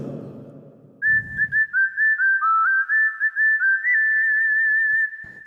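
A keyboard's whistle voice plays a clear, steady melody of sustained and stepping notes, loud and alone after a short burst of low sound at the start.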